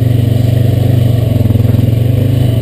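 Honda Rancher 420AT four-wheeler engine during a test ride, a loud, close, steady throbbing idle-like drone with a fast even pulse and no voices.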